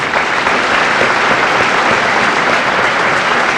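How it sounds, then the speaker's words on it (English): Dense, steady applause from a large crowd at a high school senior assembly fills the whole moment, loud and continuous with no pauses or voices standing out. "Let's have a round of applause for these scholarships."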